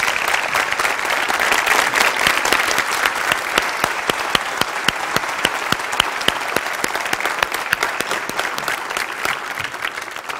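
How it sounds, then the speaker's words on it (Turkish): Studio audience applauding a darbuka player on a clarinet-themed Turkish TV show, sustained dense clapping that stays loud and even throughout, with sharper individual claps standing out near the front. "Alkışlarınızla lütfen"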